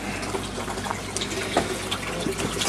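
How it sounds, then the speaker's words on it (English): Water from the sump tank of an aquaponics system pours steadily into the fish tank, a continuous close splashing and trickling flow with small bubbly drips scattered through it. "the water is pumped from down here. This is the sump tank. The water's pumped from here and it goes up"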